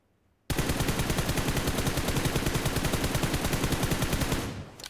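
Sustained automatic rifle fire in PUBG Mobile, a rapid evenly spaced stream of shots starting abruptly after a brief silence and continuing loud and close for about four seconds before stopping.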